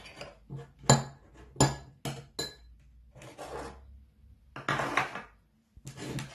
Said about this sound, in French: Donc je mélange pour essayer d'avoir une consistance crémeuse